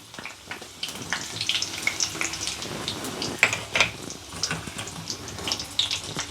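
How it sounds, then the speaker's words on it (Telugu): Broken dried red chilies frying in hot oil for a tamarind chutney, a steady close sizzle and crackle with small pops and occasional clinks of a pan, no talking. "నూనె వేడెక్కింది, తుంచిన ఎండుమిరపకాయలు వేసుకుందాం."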